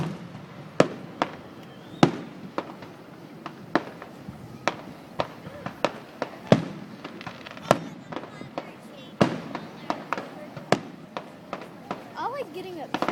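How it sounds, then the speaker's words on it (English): Roman candles and fireworks popping and cracking in a rapid irregular series of sharp bursts at a 2012 Cabot fireworks show, some near and loud, others fainter, with people talking throughout. "How much you want to bet at the house they're shooting off Roman candles"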